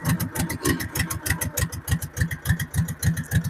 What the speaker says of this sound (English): I don't know if you guys can even hear me over Steven's tractor running